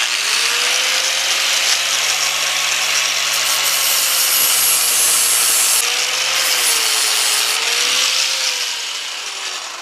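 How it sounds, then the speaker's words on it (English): An angle grinder grinds a broken stud flat on a Jeep 4.0 engine, a loud continuous high whine with slight pitch wavering that holds steady for about nine seconds before easing off at the end. "let's go over the grinder, get this ground flat"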